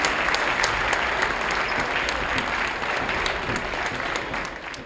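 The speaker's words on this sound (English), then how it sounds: "Let's put together a big round of applause for all these great seniors" Sustained applause from a crowd in a gym during senior night at a high school basketball game, a steady wash of clapping that holds for the whole stretch and fades slightly toward the end.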